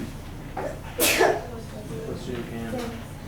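A single sharp sneeze bursts out in a classroom lecture setting, loud and close, with quiet murmuring voice sounds before and after it.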